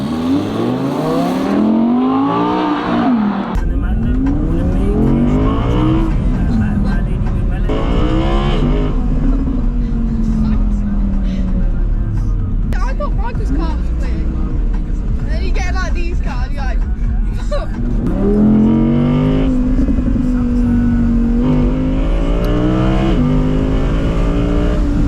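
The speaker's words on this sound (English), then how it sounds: "Chloe went out in the R8." An Audi R8 drives off and revs, its engine climbing and falling through repeated pitch sweeps, loud and close, with a heavier acceleration burst late on.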